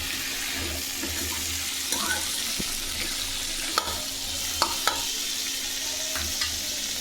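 Peas, grated ginger and spices sautéing in a pan for khichdi, a steady close sizzle with scattered sharp clicks of a spoon against the pan, no talking.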